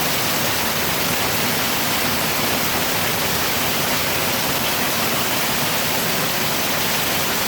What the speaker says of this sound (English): Wind's blowing the rain clear up underneath the roof.